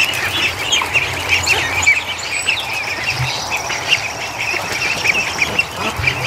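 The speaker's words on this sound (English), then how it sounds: "there's a lot of duckies." A flock of Muscovy ducks makes a busy, continuous chorus of raspy quacks and chirpy peeps close by, layered densely with no pauses.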